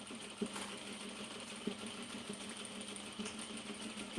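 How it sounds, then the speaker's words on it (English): A sewing machine stitches an oversized denim tote bag, a faint steady mechanical whir with soft periodic ticks from the needle mechanism, alone without talking. "So right now we're sewing a big oversized denim tote bag."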